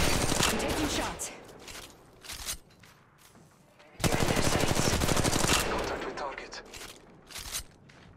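Rapid automatic gunfire in the mobile shooter game Apex Legends Mobile, two loud sustained bursts with sharp rattling shots and brief gaps, while a voice speaks over the action.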